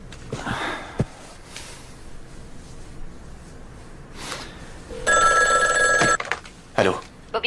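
A mobile phone rings in a steady electronic tone for about a second amid breathy sniffing and scuffling, followed by a few short bursts of ringing.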